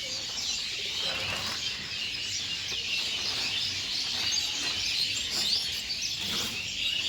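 Madras pigeons taking flight in the evening, a rush of flapping wings over a bed of chirps and bird calls, fairly close and continuous throughout.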